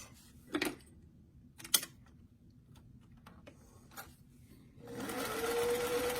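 A few sharp clicks and taps, then a sewing machine starts stitching a lined doll dress with a fast, steady mechanical whir, close by.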